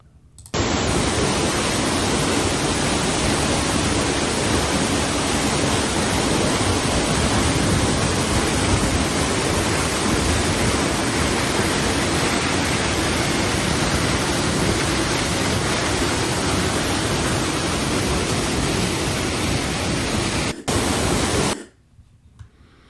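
Dry Falls waterfall in North Carolina, in icy winter conditions with mist coating nearby rhododendrons, roars as a steady, loud, dense rush of falling water that fills the scene without pause and cuts off near the end.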